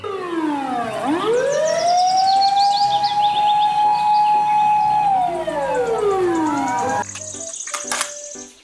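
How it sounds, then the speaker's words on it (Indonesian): Toy fire truck siren wailing loudly and steadily, sweeping up at the start, holding a high tone, then winding down, with a brief clatter of toy noise at the end. "Mobil truk pemadam"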